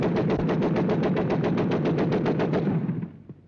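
Rapid, steady automatic gunfire during merchant marine gunnery practice, with a continuous string of loud, evenly spaced shots that stops abruptly and trails off into a fading echo.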